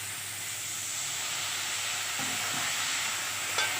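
A splash of water goes into a hot pan of fried aubergine, and a steady, moderate sizzle and hiss follows, with a small clatter near the end. No one speaks.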